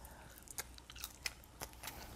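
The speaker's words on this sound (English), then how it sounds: "Hear the crunch." Quiet, crisp crunching bites of crispy fries, a handful of sharp snaps spread over a couple of seconds, close up with no talking.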